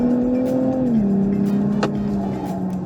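A Nissan 400Z sports car drives through a cone course, its engine holding a steady close drone that dips slightly in pitch as it shifts load, with faint tire noise underneath.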